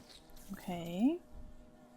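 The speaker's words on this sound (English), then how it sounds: "The boo fly, too slow to escape you and too large to hide from you." A boofly creature in the video game Hollow Knight gives a short, rising, droning buzz-like call lasting about half a second, fairly close and clear over a quiet background hum.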